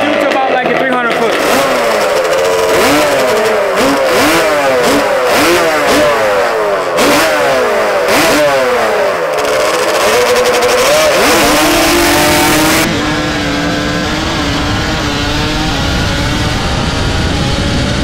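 Two-stroke Yamaha Banshee ATVs with 100+ horsepower, geared for sand, scream through rapid upshifts in a loud drag-style run on a road, the rising and falling engine notes overlapping before settling into a steady high drone near the end.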